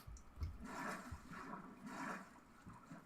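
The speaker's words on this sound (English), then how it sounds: "I'm just gonna ride the waterfall back down to the ruined portal." Rushing waterfall water in Minecraft, a steady broadband roar with surging swells, continuous and fairly close, no voices.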